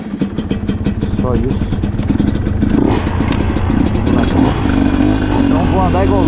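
An MXF 250 TS trail motorcycle engine revving on a rocky dirt trail, loud and close with rapid throttle blips and rattling clatter as someone speaks over it.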